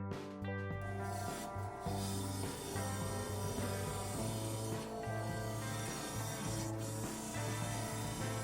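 A gouge cuts a natural-edge apple wood crotch spinning fast on a lathe, a continuous loud rasping scrape with steady humming tones and occasional brief dips as the tool shifts.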